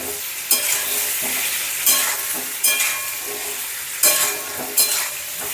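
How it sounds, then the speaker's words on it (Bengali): Whole potatoes stirred into a sizzling tomato masala for Kashmiri dum aloo, with steady frying hiss and several sharp scraping stirs of the spoon against the pan. "টমেটো গলে গেছে এরপর আলুগুলো দিয়ে দিচ্ছি গোটা গোটা আলু"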